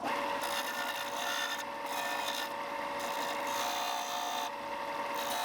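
Steady rasping of sanding on wood, continuous back-and-forth friction at close range with a few brief pauses, shaping a wooden deep-diving fishing lure.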